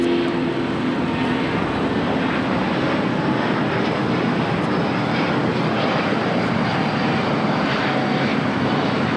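Delta flight 528, an Airbus A350 departing LAX for Atlanta, gives a loud, continuous roar of jet engines at takeoff power, close and unbroken throughout.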